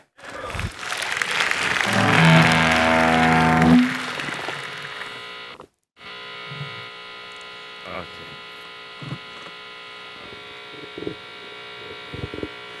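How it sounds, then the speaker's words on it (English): Loud audience applause at a tech conference talk on processing music with JavaScript swells for about three seconds, then cuts off abruptly, leaving a steady electrical hum with scattered faint sounds. "Big applause for Vitalii and his voodoo on stage"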